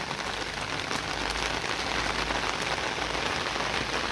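Dense, steady rain patters on a surface nearby, a constant even hiss of drops with no pauses or voices.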